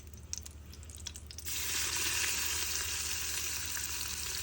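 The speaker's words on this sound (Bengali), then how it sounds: "আমি তেলের মধ্যে একটু তেজপাতা ফোড়ন দিয়ে দিচ্ছি, জিরা এবং কিছু গরম মশলা, দারচিনি, এলাচ এবং বড় এলাচের ফোড়ন দিয়ে দিলাম" Bay leaf, cumin and whole spices (cinnamon, cardamom, black cardamom) hit hot oil for goat trotter paya, a few faint clinks giving way to a loud, steady, close sizzle that holds to the end.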